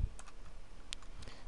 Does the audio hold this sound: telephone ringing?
no